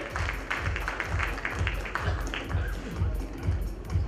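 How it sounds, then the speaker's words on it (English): Audience applause for a winning team at a corporate awards ceremony, a steady wash of many hands clapping with a pulsing beat under a low rhythmic music bed, moderately loud throughout. "a big round of applause for Team Dell"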